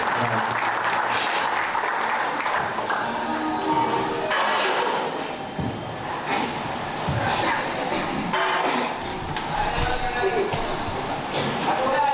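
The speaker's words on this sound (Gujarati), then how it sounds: "એકવાર તાળીઓના ગડગડાટ સાથે બંને દીકરીને" An audience at a religious ceremony applauding, a sustained wash of clapping from a large crowd with voices mixed in, fairly loud and continuous throughout.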